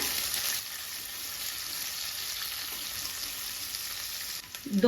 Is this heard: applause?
no